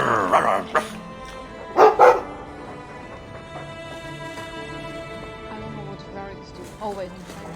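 Dog barks in a fantasy role-playing video game, a few short yips and woofs near the start and around two seconds, with game ambience and a sustained tone running underneath.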